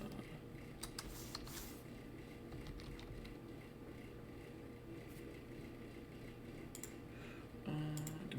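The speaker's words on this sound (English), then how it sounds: "I'm still typing something" Quiet typing on a computer keyboard: faint, scattered key clicks at an irregular pace against a low background hum, with no talking.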